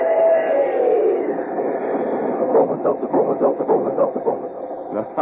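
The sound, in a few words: Bromo Seltzer talking train radio sound effect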